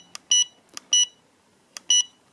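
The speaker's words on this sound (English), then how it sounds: "Change the band with a slightly longer press and you get a double beep." Aomway Commander V1S FPV goggles button beeping: three pairs of short electronic beeps, each a faint click followed by a louder tone, close and clear with no talking.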